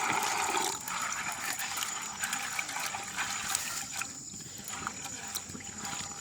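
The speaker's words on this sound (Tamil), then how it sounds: "நான் இந்த கச்சாம்பருப்பு ஒரு கழுவி எடுக்க போகிறேன்" Peanuts being rinsed by hand in water for a village-style fry, giving steady sloshing and trickling that runs continuously for several seconds, fairly close and with no talk over it.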